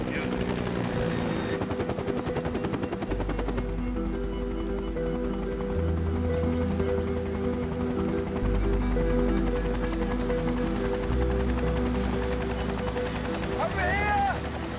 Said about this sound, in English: But the instant that I hear that helicopter, I snapped to attention.